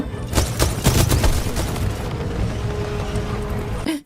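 Smart pistol gunfire in Titanfall: dense, loud bursts of shots with booming impacts and battle noise, the heaviest cluster near the start, then a steady roar of continuing combat.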